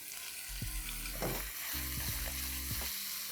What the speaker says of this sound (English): The oil is heated up. Let's add in sliced onions. And immediately to this, let's add in cut meat or mutton.